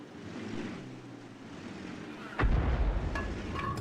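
Artillery fire in the World of Tanks video game lands as one loud, deep boom partway through, over a low rumbling wind-like ambience, followed by a few fainter sharp pings.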